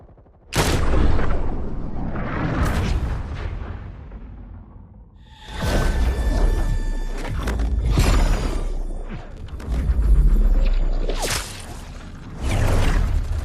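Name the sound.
gunfire from an army in FF7 Saga Abridged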